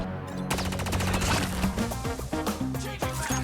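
Gunfire in the Call of Duty Mobile shooter game, a fast automatic rattle of repeated shots over layered in-game music and effects, close and busy throughout.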